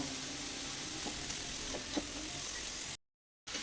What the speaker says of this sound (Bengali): ভালো করে একদম নাড়াচাড়া করে নিলাম